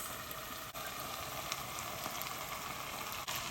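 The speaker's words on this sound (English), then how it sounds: "Now we're gonna add the green beans" Green beans frying in a pan with onion, garlic and spices, giving a dense, continuous sizzle that stays loud and even from start to finish with no voices.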